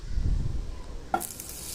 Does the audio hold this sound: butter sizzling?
yes